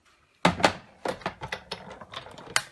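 A manual die-cutting machine rolls a die through to cut numbers for an advent calendar, making a close run of uneven clicks and dull clunks.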